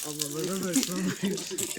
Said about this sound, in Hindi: हमारे इधर नल ऐसा होता है, पानी निकलता है ऐसे।